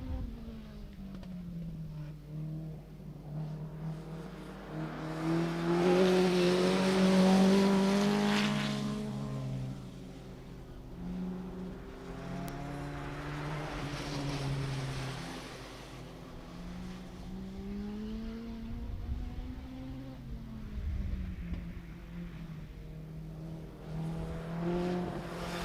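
Midget race cars circle a track, their engines rising and falling as they pass at a moderate distance, one loud swell standing out, with background noise throughout and an announcer faintly audible.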